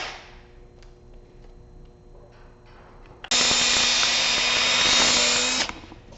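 Power sander working sandpaper over a plastic car headlamp starts abruptly after quiet handling noises, then runs as a loud steady whir for about two seconds before stopping, with no talking.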